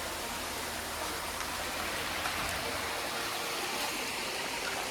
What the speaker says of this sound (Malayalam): ചെറിയ വെള്ളച്ചാട്ടമൊക്കെ ഉണ്ട്